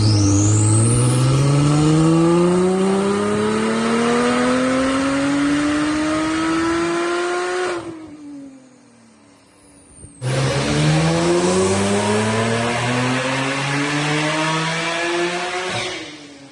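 Porsche 991 Turbo S engine roars on a dyno, winding up in a long climbing rev, cutting off abruptly, then launching into a second loud rising pull that fades near the end.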